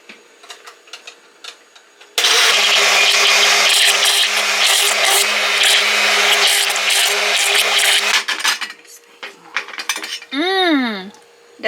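A blender whirs loudly and steadily for about six seconds while blending watermelon into a non-fat drink, then cuts off, leaving scattered clinks and knocks.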